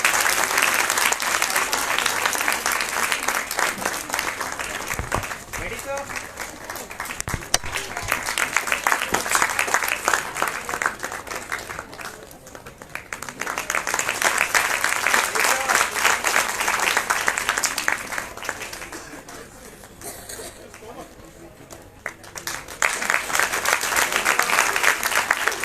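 Sustained audience applause at a science festival prize ceremony in Uttarakhand, loud and continuous clapping from a large crowd that swells in several waves, dipping briefly and rising again.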